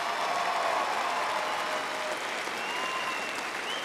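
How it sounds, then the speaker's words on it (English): An audience at a boys' high school basketball state championship game applauds both teams, a steady wash of many hands clapping heard from a distance at moderate loudness, with no talking over it. "I would like you one more time to give the applause for both teams for that respect."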